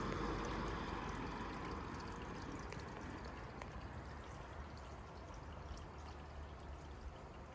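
Water runs through a newly installed vinyl gutter, a soft steady pouring and trickling that fades slightly toward the end.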